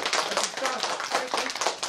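A small group gives brief, scattered applause indoors at a municipal hall, the hand claps close and uneven over a couple of seconds, with no voices.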